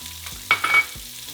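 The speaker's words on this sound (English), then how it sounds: "once we're done searing all of our pork chops, we're going to throw in our onion." Chopped onion dropped into a hot pan after searing pork chops gives a brief burst of sizzling with a stir or two, fairly quiet and close.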